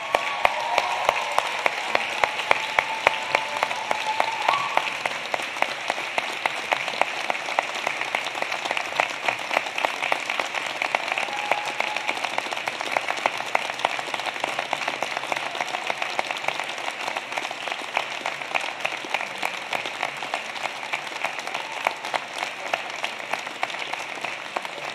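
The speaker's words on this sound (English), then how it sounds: "stand up and give them a huge round of applause" Sustained applause from a large convocation audience honouring graduates' families, a dense steady wash of many hands clapping that fills the whole stretch without letting up.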